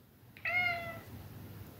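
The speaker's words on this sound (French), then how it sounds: "Donc ceux qui attendaient le petit miaou de Doudou, vous l'avez eu." A house cat gives one short, clear meow, faint and somewhat distant, rising briefly then trailing off over a quiet room hiss with no talking.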